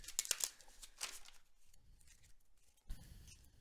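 Tarot deck shuffled by hand, a few quick crisp riffles of cards, close and fairly faint, followed by soft handling sounds.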